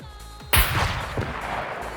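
A single sharp gunshot in the video game SCUM bursts out after a quiet moment, followed by a rolling echoing tail that fades slowly.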